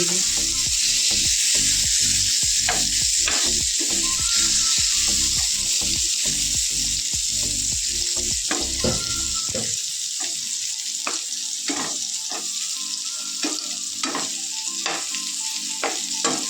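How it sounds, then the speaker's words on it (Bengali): Steady sizzling of pointed gourd frying in oil in a pan, with intermittent scraping and stirring clicks from a utensil, close and continuous. "আমি পটল ভাজাটাকে বসিয়ে দিয়েছি"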